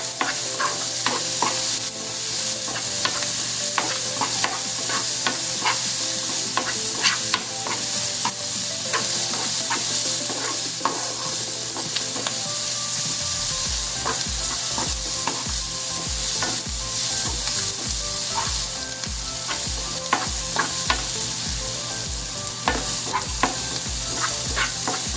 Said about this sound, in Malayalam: ഇതിലേക്ക് ഒരു പിഞ്ച് കരിവേപ്പില, ചെറുതായി കട്ട് ചെയ്തിട്ട് ഞാൻ ഉള്ളിയുടെ ഒപ്പം ഇട്ട് കൊടുക്കുന്നുണ്ട്